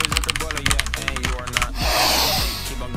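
Rapid clacking keystrokes on a Vulture Commando mechanical keyboard with red switches and a Hungarian layout, close and crisp in quick bursts, then a softer rushing sound before a few final taps.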